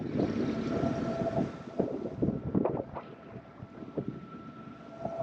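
Dazcat 1195 catamaran motoring downwind under headsails off the south coast of Fuerteventura, with a steady low engine and water rush under heavy gusting wind buffeting the microphone.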